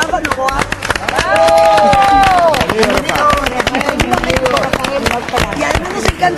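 Studio audience clapping for actor Rafael Novoa on a Spanish-language television show, dense rapid applause with cheering, loud and close, while people talk over it.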